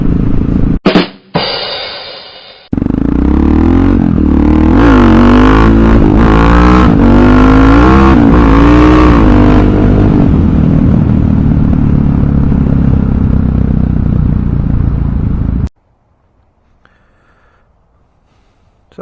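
A 2006 Husqvarna SM610 supermoto with a 576 cc single-cylinder engine starts after a few clattering attempts, then runs loud and close with rising revs before settling into a steady throbbing idle and cutting off near the end.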